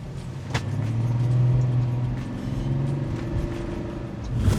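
An old used car drives along with its steering wheel sitting crooked, a steady low engine rumble and road noise heard from inside the cabin, swelling slightly and easing off.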